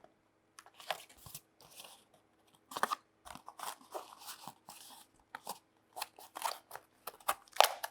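Cardboard folded along pre-scored fold guides for a homemade periscope, giving a string of short crisp creases and crinkles in irregular bursts, close and fairly quiet with small pauses between folds.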